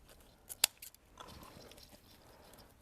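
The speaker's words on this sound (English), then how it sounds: "I'm gonna grab my scissors" Scissors snipping a Christmas tree decoration give a couple of quick, crisp snips close up, followed by soft rustling of the decoration material.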